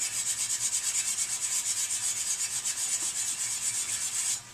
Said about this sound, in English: I'm just going to get in here and buff out anything that's rusted.